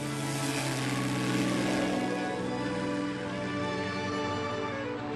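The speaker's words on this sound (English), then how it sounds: "Now the take-off. Throttle right forward." A Spitfire fighter plane's engine roars at full throttle on take-off, a loud, continuous droning propeller sound that holds steady throughout with no voices.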